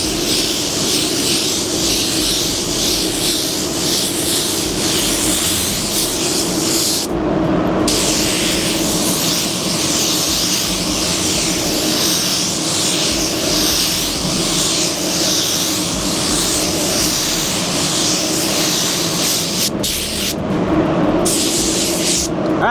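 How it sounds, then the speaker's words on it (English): A paint spray gun lays down a wet coverage coat of Sherwin Ultra 9000 basecoat for a blend, a loud steady hiss running continuously, with two short breaks where the trigger is released. "So I'm gonna get my first coverage coat laid down, immediately go back up and do kind of a half coat or pre-orientation coat."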